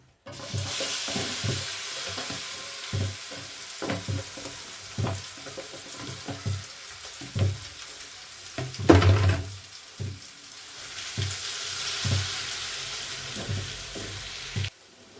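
Peppers frying in a pan for a simple home lunch, a steady sizzle broken by repeated rhythmic stirring knocks and one louder clatter midway.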